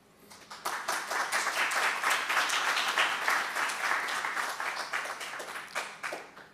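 Applause from a workshop audience right after a presentation ends, a steady wash of many hands clapping that swells quickly, holds for several seconds and then thins out, with no talk over it.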